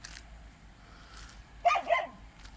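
A dog gives two quick barks close by, loud and sharp against a quiet background.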